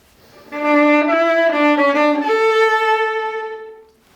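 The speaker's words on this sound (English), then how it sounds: "A gruppetto is basically a slow turn, often played with separate bows." A bowed string instrument plays a gruppetto, a slow turn in Piazzolla's Le Grand Tango, a few separate notes stepping around a central pitch before settling on a long sustained tone.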